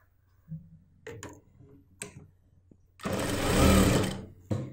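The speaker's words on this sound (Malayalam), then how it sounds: "സ്റ്റിച്ചിങ് സ്റ്റാർട്ട് ചെയ്ത് നിർത്തുക." A sewing machine stitches a doubled folded hem on nighty fabric, with a few light clicks and taps first, then a close, loud whirring run of stitching lasting under two seconds before stopping with a final tap.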